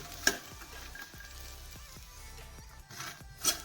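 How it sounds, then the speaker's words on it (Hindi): Makhana (fox nuts) roast in a pan while being stirred for methi laddu, giving a faint, dry scraping rustle with a few soft clicks and two sharper ticks, quiet and close with no talking. "तो इसको भूनने में 5-6 मिनट लगेंगे और फिर हमारे मखाने भी क्रिस्पी हो जाएंगे"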